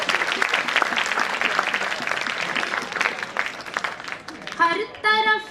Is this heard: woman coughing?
no